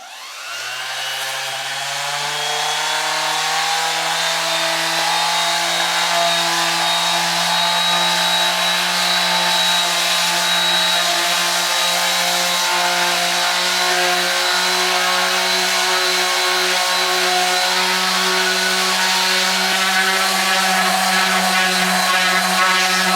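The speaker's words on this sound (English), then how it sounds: "So that should be enough sanding." A power sander running steadily on a small wooden tiny-home table, a loud, continuous whirring drone that spins up at the start and holds an even pitch throughout, close by with no talking.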